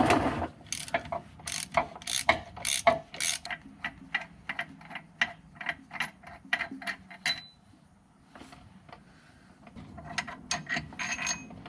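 A hand ratchet clicks in quick, uneven bursts while differential brace bolts come out of an SRT Hellcat. The sharp pawl ticks are close and fairly quiet, with a short pause partway through before the clicking starts again.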